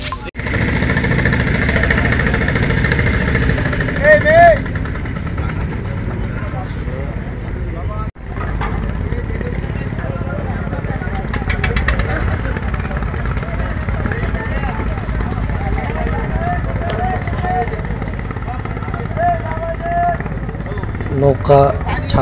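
A passenger boat engine drones steadily at Kamrangirchar's Thoda Ghat in Dhaka, its low rumble continuous and fairly loud. Harbour bustle and voices sit on top of it, with a brief dropout partway through.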